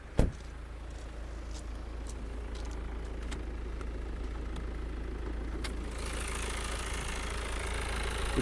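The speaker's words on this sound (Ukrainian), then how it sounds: "Моторчик працює гарно, автомат також без зауважень" A 2019 Peugeot 308 GT engine with automatic transmission idles steadily with a low, even rumble and faint ticking, continuing without change.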